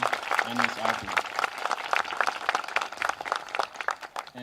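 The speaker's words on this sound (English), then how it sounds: "So please clap it up for Miss Diadio, Miss Karchawer, Miss Vaughan, and Miss Alpi." Audience in a school hall applauding the second grade teachers at a moving-up ceremony, steady clapping from many hands that swells and fades over several seconds, with brief talk near the start.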